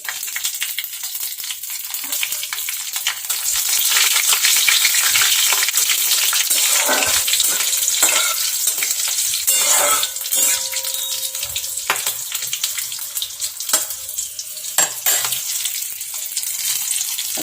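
Bay leaf, cloves, cinnamon and a few green chillies crackle and sizzle hard in hot oil, with intermittent clinks and scrapes of a spatula against the pan.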